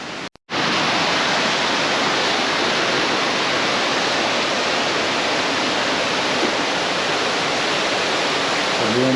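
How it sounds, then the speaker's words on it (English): Balea waterfall on the Transfagarasan in Romania roars as a loud, dense, unbroken rush of falling water, heard close after a brief quieter moment at the start. "And that's the waterfall right there."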